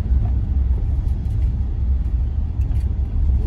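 Heavy road traffic rolls past on a street under roadwork, a dense, continuous low rumble of car engines close by, with no break in the noise.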